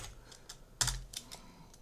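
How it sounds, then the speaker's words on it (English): Keystrokes on a computer keyboard while entering a bind in Houdini's Attribute Wrangle: a few soft, sparse taps with one louder cluster near the middle, close and alone with no talk. "Press tab and type a bind."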